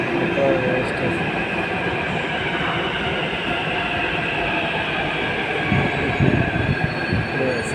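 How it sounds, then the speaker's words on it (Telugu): Hyderabad metro train at a station, a continuous loud rumble with a short wheel squeal early on and a few heavier thuds near the end, no voices. "అమీర్పేటలో మెట్రో ఎక్కుతున్నాను వస్తానగర వెళ్ళడానికి."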